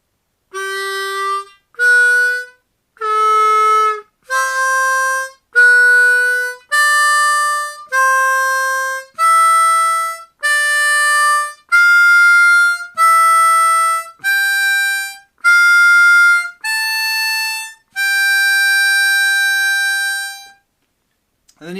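Cross harp harmonica scale exercise in blow and draw holes, a run of about fourteen distinct sustained reedy notes with brief gaps, climbing steadily in pitch and ending on a longer held note, played alone and close.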